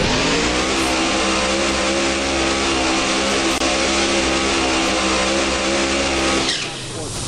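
The J&A Service Funny Car's drag racing engine roars loud and unbroken at a drag strip, a dense, harsh, steady blast that drops off abruptly near the end.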